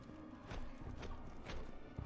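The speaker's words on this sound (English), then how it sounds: "Why do I hear footsteps?" Footsteps in a Bloodborne-inspired soulslike video game: a steady run of heavy, evenly spaced steps, about four in two seconds, at moderate distance over a low ambient rumble, with no talking.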